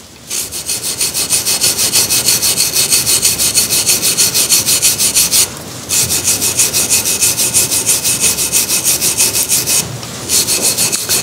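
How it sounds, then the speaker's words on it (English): A soft brass wire brush scrubs loose fibres off spun maple on a lathe, a loud, fast rhythmic rasping that runs steadily with two brief pauses. "a soft wire brush, a brass brush. This can be used to clean up any of the fibres that will have been left behind."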